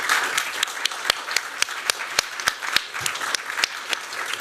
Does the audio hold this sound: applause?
yes